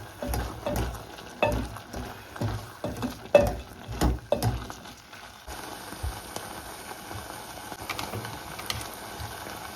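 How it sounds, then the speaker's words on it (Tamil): Bitter gourd cooking in a pan with a little turmeric for a milk curry is stirred in short, irregular scraping strokes, then settles into a softer, steady sizzle. No one speaks. "பிரட்டி விடுவோம்."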